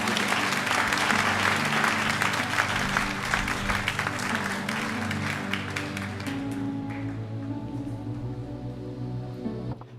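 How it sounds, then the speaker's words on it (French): Congregation clapping after a French-language sermon, dense and loud at first, then thinning out and fading over a sustained hum and background murmur. "On aurait applaudi une autre fois,"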